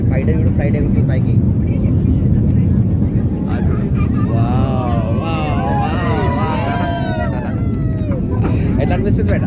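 A passenger airplane takes off, heard from inside the cabin as a loud, steady roar that fills the whole stretch, with voices talking over it partway through.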